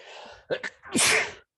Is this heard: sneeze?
yes